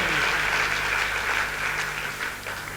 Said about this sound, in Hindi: एक बार जोरदार तालियां इन दोनों के लिए।